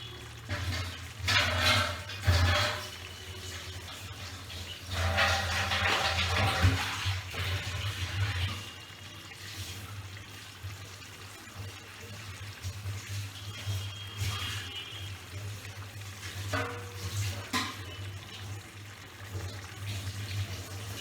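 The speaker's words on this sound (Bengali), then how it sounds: "আমি হাতটা ধুয়ে আসি" Tap water runs steadily into a kitchen sink during handwashing, a continuous close wash with brief louder splashes and faint background clatter.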